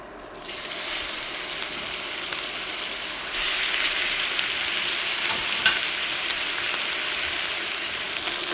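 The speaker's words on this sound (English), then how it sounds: "I have some clarified butter in our skillet here. We're just going to go ahead and we're going to throw these steaks in" Steaks sizzle in clarified butter in a skillet, a loud, steady, hissing fry that starts abruptly and swells slightly midway, continuous and close with no talking.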